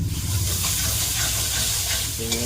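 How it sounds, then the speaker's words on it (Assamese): Onion and masala fry in a pan for a goat meat curry, giving a loud, steady sizzle with faint stirring that runs the whole short stretch without talk. "পিঁয়াজ ভাজি মছলাটো দি দিলে"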